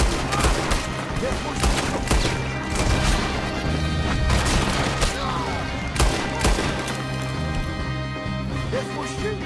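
A loud, dense gunfight in Red Dead Redemption 2, with rapid overlapping gunshots, crashes and impacts at close range running steadily throughout, and game dialogue faintly in the mix.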